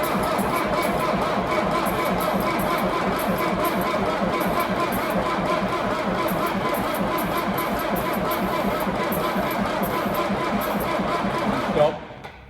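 Diesel engine of a Sanderson 726 telehandler being cranked and run, a steady loud mechanical drone with dense vibration that cuts off abruptly near the end, with voices over it.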